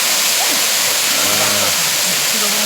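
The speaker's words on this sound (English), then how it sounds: "this is a waterfall in Savusavu" A waterfall in Savusavu, Fiji pours with a loud, constant broadband roar close by, while a voice speaks briefly over the rushing water.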